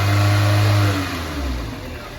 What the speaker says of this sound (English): we'll see what happens when Zach revs it